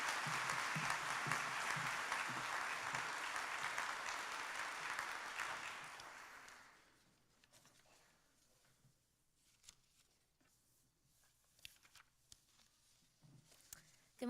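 Loud, dense applause from a graduation ceremony audience greets a speaker for about six seconds, then fades to near silence with faint shuffles and scattered small knocks.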